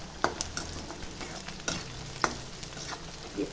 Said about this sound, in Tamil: பாருங்கள், வெங்காயம் இந்த அளவுக்கு நல்லா வதங்கணும்